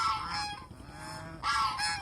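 Domestic geese honk loudly and close by in two short bursts of nasal calls separated by a softer, lower call, with no voices.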